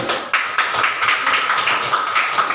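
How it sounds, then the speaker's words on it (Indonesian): Fourth-grade pupils in a primary school classroom clap for a classmate, a short burst of quick, sharp hand claps in a loose, fairly even rhythm, close and loud, with no talking over it. "tepuk tangan dulu untuk teman"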